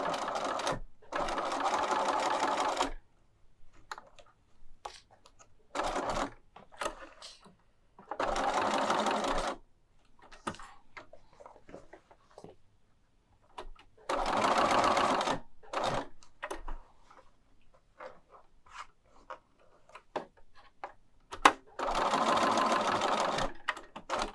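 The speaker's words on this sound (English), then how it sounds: "I'm going to sew around this end as well" A sewing machine runs in several separate bursts of steady, rapid stitching, with quiet pauses and faint handling noises between them.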